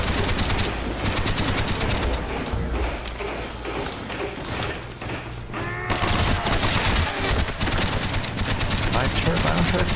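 Rapid machine-gun fire rattles in a video game, aimed at the player, loud and dense for the whole stretch, with a brief dip midway before the bursts resume. A voice talks over the shooting.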